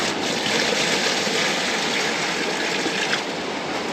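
Water pours steadily into a bucket with a sack of tile glue for mixing, a continuous close gushing splash that holds level throughout on a kitchen renovation job.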